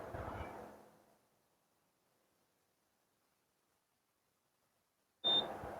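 An induction cooker's buzzer sounds a single short, sharp beep once its front panel is connected. The beep comes after a stretch of near silence that follows fading noise.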